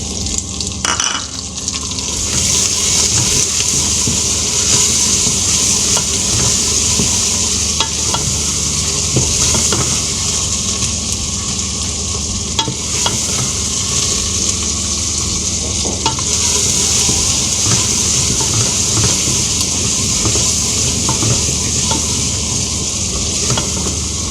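Steady, loud sizzling and crackling of tomatoes frying in a hot pan, with occasional stirring scrapes throughout and no talking.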